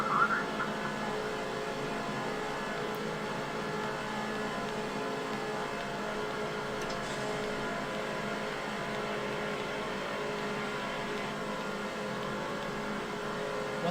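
Race car engines in the NASCAR 07 video game during a Busch Series race at Talladega or Bristol, a steady dense drone of several cars held at constant loudness for the whole stretch, with a faint voice underneath.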